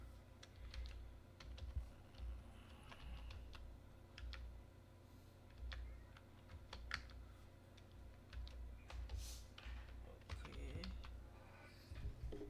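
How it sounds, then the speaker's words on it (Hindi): A password goes in on a computer keyboard as soft, fairly faint key taps in an uneven, steady rhythm, with a light background hum and little else around them. "यहाँ पे हम मैनुअली पासवर्ड एंटर कर सकते हैं।"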